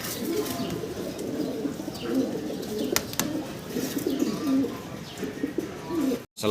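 A pair of fancy pigeons coos steadily and close by, with soft throaty calls and occasional chirps over a busy background hum. No one speaks.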